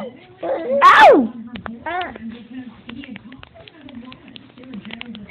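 A dog sneezes once, a sharp burst near the start, followed by ongoing people talking and laughing nearby through the rest.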